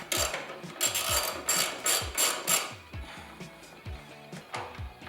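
Ratcheting and wrench clicks as two 10mm bolts holding the overflow tank are removed from a 2012-2022 HEMI Charger during a cold air intake install, with repeated short mechanical bursts close to the microphone.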